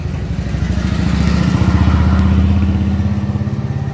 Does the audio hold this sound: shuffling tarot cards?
no